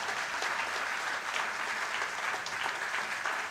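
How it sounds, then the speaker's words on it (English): An audience at a trade union's platinum jubilee valedictory function breaks into a big, steady round of clapping, dense and sustained throughout with no gaps. "give a big clap saying that we are proud."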